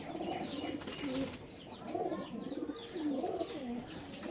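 Pet pigeons coo softly and repeatedly in gentle rolling phrases, close but quiet, with a brief flutter of wings and faint chirps in the background.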